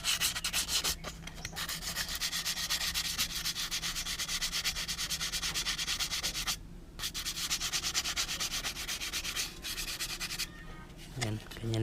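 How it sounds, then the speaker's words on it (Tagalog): Steady, scratchy rubbing of fine sandpaper on metal, removing black marks, continuous back-and-forth strokes with a brief pause, close and moderately quiet. "Iliha lang natin ng konti ito para matanggal yung mga itim-itim"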